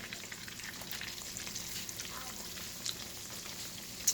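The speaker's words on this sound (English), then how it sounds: "while your chicken is frying" Steady sizzling and crackling of chicken frying in a hot pan, continuous and close, with a couple of faint clicks near the end and no voices.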